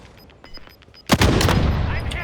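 Sniper rifle shot in a Call of Duty battle royale match, a single sharp loud crack with a ringing tail, preceded by faint game sounds and clicks.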